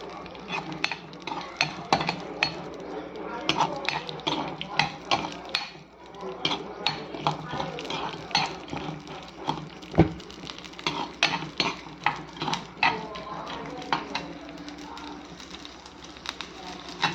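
A spoon scrapes and clatters against a pan as a nalli curry is fried and stirred, with rapid, irregular metallic knocks and a faint sizzle running steadily throughout, close and fairly loud.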